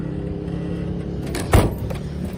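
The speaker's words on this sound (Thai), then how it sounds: "แล้วดูลองฟังเสียงเครื่องกัน เครื่องดีเครื่องนิ่ม" A 1990 Toyota Corona car idles with a steady low engine hum, briefly interrupted by a sharp clunk partway through, with no speech.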